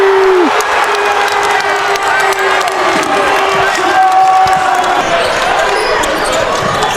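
Crowd at an NCAA men's basketball game between Loyola Chicago and St. Bonaventure roars and cheers steadily after a three-pointer, a loud sustained arena din with a sneaker squeak and ball bounces, a commentator talking over it.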